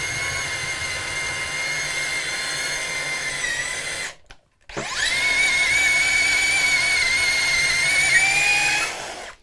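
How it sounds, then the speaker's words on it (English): A DeWalt DCD130 mixing drill whines loudly and close while boring through material, running steadily for about four seconds, stopping briefly, then spinning back up into a second sustained, high-pitched run before winding down. "you can see it drills through this no problem at all"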